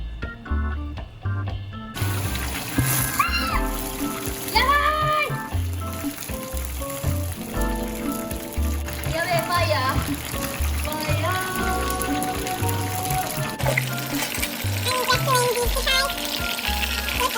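Teriyaki sauce of soy sauce, mirin, cooking sake and sugar bubbling and sizzling in a hot pan with chicken, a continuous close crackle under background music.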